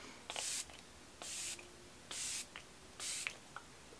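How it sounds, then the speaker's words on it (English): A Tarte makeup setting spray mists in four short, even hissing bursts, close to the microphone, with faint clicks of the pump between sprays and no talking. "It has a really, really fine, wide spray."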